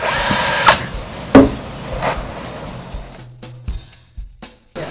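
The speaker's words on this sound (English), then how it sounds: "First, you're going to start with drilling your hole." Handheld power drill boring a hole into a plastic rain barrel, a few short whirring bursts with clunks and handling knocks between them, close up.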